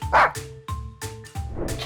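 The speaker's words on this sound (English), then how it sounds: "dog," A dog barks three times in quick, evenly spaced woofs, loud and close, each a short punchy burst.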